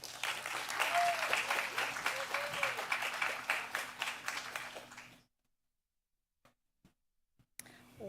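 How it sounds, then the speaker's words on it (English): Audience applause at a policy forum on Black maternal and infant health, steady clapping from a crowd lasting about five seconds, then cutting to near silence with a few faint taps. "Let's give another warm round of applause for Dr. Thorpe and also for Ms. Austin Hilla"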